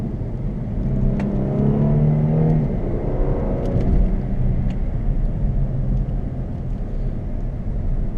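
A Mercedes-Benz E-Class cabriolet engine rumbles steadily from inside the car as it drives in manual mode, its pitch rising and then dropping as the driver shifts gears with the paddle shifters, with faint clicks and no talking.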